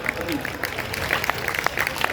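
Audience clapping at a Hindi kavi sammelan poetry gathering in Rasulabad, a continuous patter of many hands with sharp individual claps standing out, heard alone without talk.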